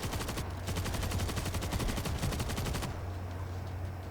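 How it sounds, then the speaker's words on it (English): Rapid machine-gun fire from a World War Z player's MG, a steady loud stream of rhythmic shots for about two and a half seconds before it stops, over a constant low game hum. "Got the MG out to try and help me through this."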